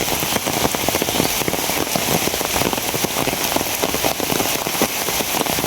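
Heavy rain pours steadily onto surfaces, a dense, loud, close hiss with crackling drops throughout and no voices.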